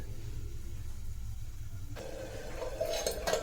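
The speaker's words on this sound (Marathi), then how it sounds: "भाजी शिजली आहे आपली प्लेट काढून घेऊया" Metal plate lid lifted off a pan of ridge gourd curry on a low gas flame, a soft clatter at the lift, then faint scraping and light clinks of metal against the pan, close by with no talk.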